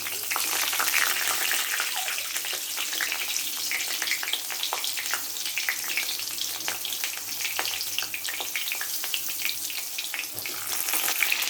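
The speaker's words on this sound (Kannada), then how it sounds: "ಇದು ಒಂದು 15-20 ನಿಮಿಷ ಫ್ರೈ ಮಾಡೋಕ್ಕೆ ಬಿಡಬೇಕು" Masala-stuffed tomatoes fry in oil in a pan, giving a steady, close sizzle dotted with sharp crackles and pops throughout, with no voices.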